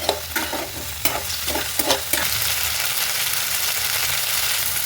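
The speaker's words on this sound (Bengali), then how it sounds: "একটু ভালো করে নাড়িয়ে নিই" Tomatoes and okra sizzle in a hot frying pan while a spatula scrapes and clatters in several quick strokes, then the frying settles into a steady close hiss.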